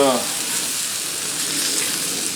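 Steak sears on a Blackstone griddle over a burner set to high, giving a loud, steady hiss and crackle that fills the whole moment, with a brief voice at the very start.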